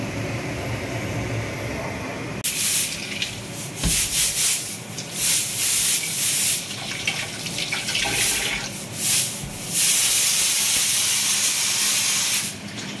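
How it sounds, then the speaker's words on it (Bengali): Raw rice grains are rinsed with water in a steady wet rubbing and sloshing that swells and dips in uneven waves, close and fairly loud with no voices. "ভাতের চালটা ধুয়ে নিলাম"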